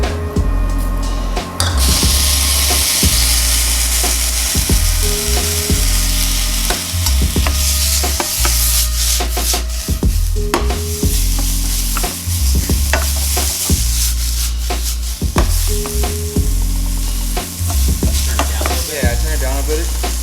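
Shallots and garlic frying in a pan for sundried tomato and Boursin risotto, sizzling loudly while a utensil stirs and scrapes in repeated strokes across twenty seconds, close up and without speech.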